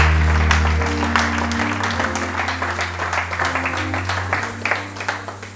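A church audience applauding in praise of Jesus, steady rhythmic clapping over sustained music, loud and close throughout.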